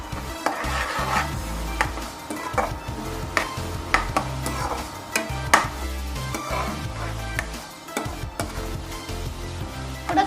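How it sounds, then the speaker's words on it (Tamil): Onions fry in a pan as ground masala paste is stirred in, a sizzle under repeated close scraping and knocking of a spoon against the pan. "வெங்காயம் நல்லா ஃப்ரை ஆன உடனே நம்ம அரைச்சி வச்சுருக்கிற மசாலாவை இது கூட ஆட் பண்ணிக்கலாம் ஃப்ரெண்ட்ஸ்"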